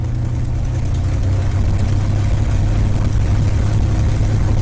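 The Crazy Horse 2 aircraft engine runs steadily at about 1,500 RPM, a loud, close, even low drone with a constant throb and no talk over it.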